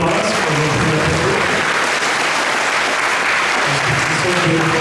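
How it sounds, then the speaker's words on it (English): A Sunday love feast audience at ISKCON Toronto applauds loudly and continuously, dense clapping filling the whole stretch after a lecture, with a faint tonal sound at the edges. "Let's give a big round of applause for what we have to do."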